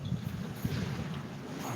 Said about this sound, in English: It is, after all, just a little windy. Slight breeze coming through.